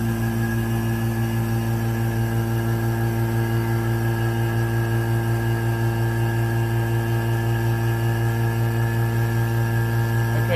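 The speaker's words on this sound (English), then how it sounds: "Let's just see if it pulls a vacuum." A vacuum pump runs continuously, pulling a vacuum on a homemade yttrium oxide setup, producing a steady, even mechanical hum with strong tonal drone and no change in level.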